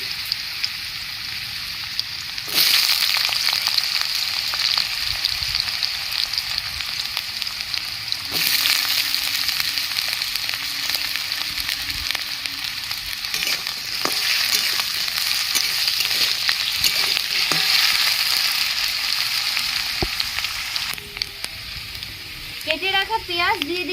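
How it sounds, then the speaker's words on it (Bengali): Potatoes fry in hot oil in a wok over a wood-fired clay stove, a loud continuous sizzle lasting throughout, with occasional utensil knocks and a voice faintly audible beneath. "কড়াইয়ের তেল গরম হয়ে গেছে, আলুগুলো ভেজে নেব।"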